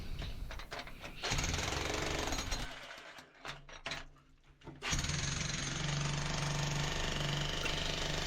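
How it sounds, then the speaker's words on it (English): A jackhammer pounds steadily, pauses briefly midway with a few short bursts, then resumes hammering continuously; moderately close. "Generally try and find a sort of a face that I can jackhammer along"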